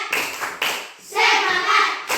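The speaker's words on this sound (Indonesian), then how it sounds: "kita tepuk semangat dulu" Children clap a rhythmic 'tepuk semangat' pattern in a classroom activity: a few sharp separate claps, then a burst of quick clapping, with faint young voices chanting along.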